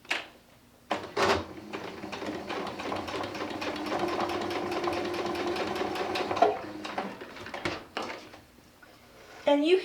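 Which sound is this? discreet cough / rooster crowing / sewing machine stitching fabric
sewing machine stitching fabric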